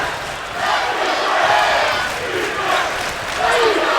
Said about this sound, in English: This crowd is charged up in San Diego.